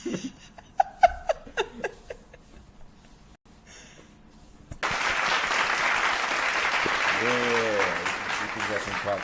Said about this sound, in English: we can get some claps for that.